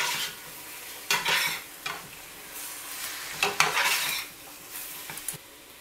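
Mushrooms and poblano pepper strips sizzle quietly in a pot as a spoon stirs them. Several sharp scraping strokes stand out over the soft, steady frying hiss, with no voices.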